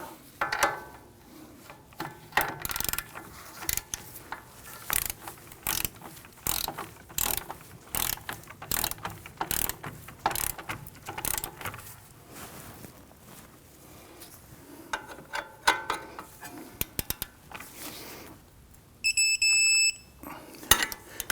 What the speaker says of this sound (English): you want to go ahead and torque them down to 77 foot-pounds